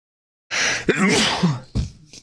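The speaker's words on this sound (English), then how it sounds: "I'm going to sneeze." After a moment of silence comes a single loud sneeze, a sharp breathy burst with a brief voiced edge, close up.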